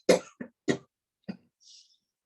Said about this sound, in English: So we give it a cough first